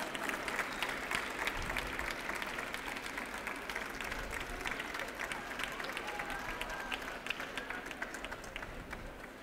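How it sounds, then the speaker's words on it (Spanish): Sustained applause from an audience at a 25th-anniversary celebration for architecture graduates, greeting an honoree called to the stage; steady dense clapping with crowd murmur throughout, no clear speech. "recibimos en el escenario a Daniel Benech con un aplauso para su reconocimiento"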